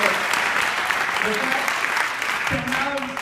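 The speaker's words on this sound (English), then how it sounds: "give him a round of applause" Steady crowd applause honors a high school senior band student, continuous clapping with a voice breaking in near the end as it fades.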